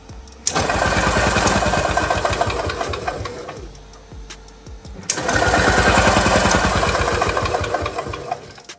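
A 1978 EZGO three-wheel gas golf cart engine, long unused and fitted with an old Ford solenoid, cranks in two long, loud bursts of rapid churning turnover, separated by a short pause.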